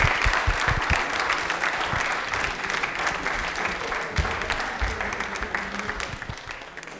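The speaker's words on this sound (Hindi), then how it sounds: "ताली एक बार जोरदार बजा दीजिए श्वेता के लिए।" Studio audience applause for a correct answer on a televised quiz show, steady continuous clapping from a crowd lasting throughout at moderate level with no talk over it.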